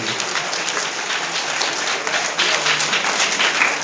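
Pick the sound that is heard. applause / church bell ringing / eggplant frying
applause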